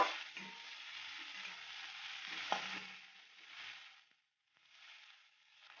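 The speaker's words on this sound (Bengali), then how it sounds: "পেঁয়াজগুলো একটু বাদামি করে ভেজে নেব" Onions fry in oil until brown, making a soft, hissing sizzle with occasional stirring scrapes. It fades briefly into near silence and then resumes, close and fairly quiet.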